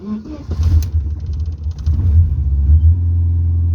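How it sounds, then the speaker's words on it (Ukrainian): A Ford project car fitted with an electric fuel pump cranks and catches, then settles into a low, rumbling idle with revving surges, close and loud. "Є, автомобіль заведений."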